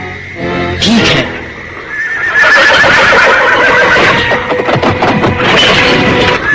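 A horse in The Jungle Book video game neighs loudly and repeatedly, with shrill whinnies over a busy bed of game sound effects and occasional thuds.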